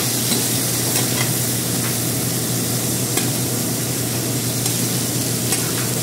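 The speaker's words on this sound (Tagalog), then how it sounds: "Gigisahin natin." Chicken for sweetened adobo sautés in a hot pan, a steady loud sizzle with occasional stirring scrapes running throughout, no talking.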